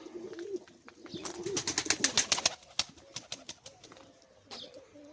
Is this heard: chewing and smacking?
no